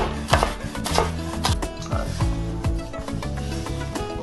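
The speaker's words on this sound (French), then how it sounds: "Je cisèle vite fait." A knife rapidly mincing food on a cutting board, a run of quick, irregular taps close up with music playing underneath.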